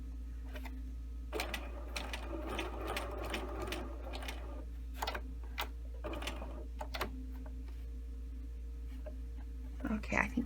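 Sewing machine stitching a tailored shirt placket, running in short bursts with pauses for pivoting, moderately close, with a steady low hum underneath and a voice talking intermittently over it.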